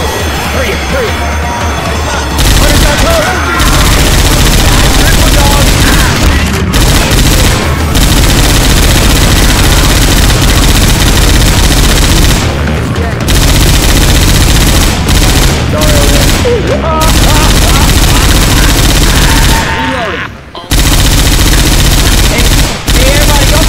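Rapid sustained bursts from a chain gun in a Roblox remake of Left 4 Dead 2, loud, continuous automatic fire with brief pauses, over occasional voices.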